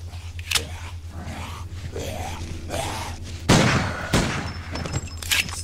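Gunshots in the VR zombie survival shooter VRZ Torment, a few sharp cracks over steady game ambience and background hum, moderately loud.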